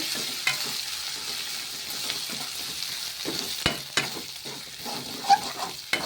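Grated ginger and garlic sizzle in a pan while being stirred, a soft frying hiss under uneven scraping strokes and a few sharper knocks of the spoon.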